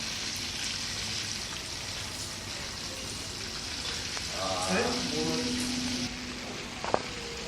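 Shrimp fry in a hot pan, a steady close sizzle with crackling spatter, while someone talks briefly over it.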